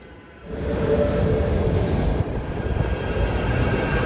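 A Manchester Metrolink tram rumbles steadily into Piccadilly tram stop, a loud low mechanical roar with faint wheel squeal and clatter, continuous throughout.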